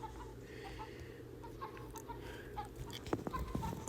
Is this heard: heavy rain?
no